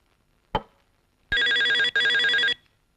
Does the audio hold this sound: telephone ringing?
yes